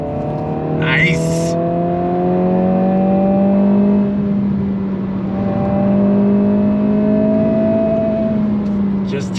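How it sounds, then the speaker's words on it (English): A 2022 Honda Civic Si engine revs up and holds near the rev limiter, a loud sustained drone that rises and dips slightly over several seconds, heard from close by with a short clatter early on. "Touch that rev limiter a little bit."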